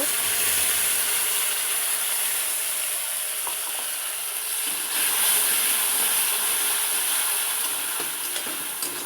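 Steady, bright sizzling of ground cumin, ginger and chilli paste frying in hot oil, with occasional scraping and clicking as it is stirred, close and continuous with no talking.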